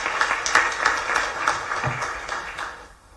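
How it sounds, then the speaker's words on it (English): An audience at an investment session applauds, a steady wash of many hands clapping that fades out toward the end. "A big round of applause, sir."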